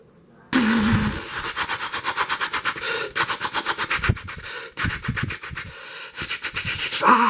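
A human voice imitating Tommy gun machine-gun fire: a fast, loud, rattling burst of breathy mouth pops that runs nearly continuously for several seconds, briefly breaking and resuming.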